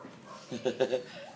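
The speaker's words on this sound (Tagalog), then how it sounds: "Baby na tuta." A baby puppy lets out a short run of soft, close whimpers and yips, three quick rising whines and then a fading cry.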